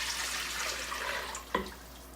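Water mixed with extra virgin olive oil is poured from a bowl into a rice cooker pot, a soft continuous splashing pour ending in a brief close splash.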